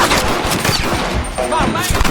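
Gunfire in the Western video game Red Dead Redemption, a dense loud volley of rapid shots layered with shouting voices in the chaotic battle.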